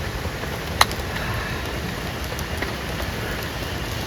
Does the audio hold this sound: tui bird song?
no